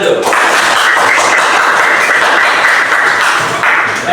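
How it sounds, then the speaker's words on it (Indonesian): Classroom applause from students responding to a teacher's cue, steady dense clapping filling the room continuously for about four seconds, loud and close. "Oke, tepuk tangan dulu."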